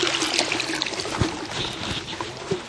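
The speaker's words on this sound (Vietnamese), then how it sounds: "Ở đây nó có một con suối nước cũng nhiều lắm cả nhà." A mountain stream in hilly highland country flows with a continuous soft trickling and burbling of water, small splashes and gurgles scattered through the steady wash, moderately close and unbroken by speech.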